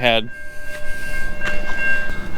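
A train passes close by, its steady rumble and rattle filling the scene, with a sustained horn-like tone running through it and a brief voice heard at the very start.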